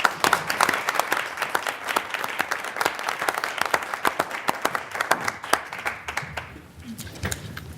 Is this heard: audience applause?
yes